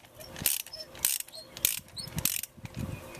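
A ratchet wrench clicks in short bursts while loosening a spark plug counterclockwise on a Toyota Tundra, with three or four quick ratcheting runs heard fairly close and quiet.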